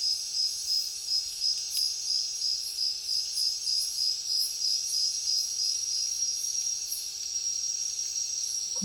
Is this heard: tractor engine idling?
no